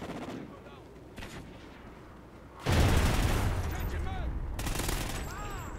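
Gunfire in the online match of Call of Duty Ghosts, with a few quieter shots early on, then a loud sustained burst of booming gunfire and game effects carrying through to the end, with no talking.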